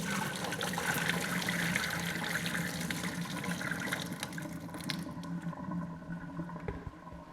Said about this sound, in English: I'm going to empty the water out